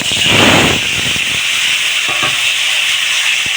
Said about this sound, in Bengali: তেল গরম হয়ে গিয়েছে এখন আমি মাছগুলো দিয়ে